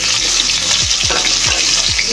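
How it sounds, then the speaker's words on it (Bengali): Fresh fish fries in a pan at home for lunch with a loud, dense, constant sizzle close by, while several short swooping tones sound under it; no one speaks. "আর একেবারে আমাদের দুপুরের জন্য মাছ ভাজা করে নিচ্ছি।"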